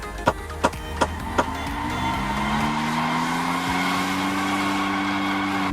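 A Porsche engine in the game BGMI, four sharp clicks, then a steady high-pitched revving whine that climbs and holds, loud and close.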